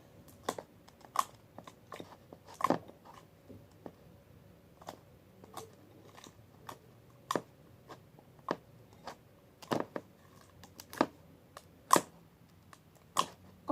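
Glossy homemade slime squished and stretched, giving sharp wet clicks and pops in an irregular rhythm, close to the microphone and quiet.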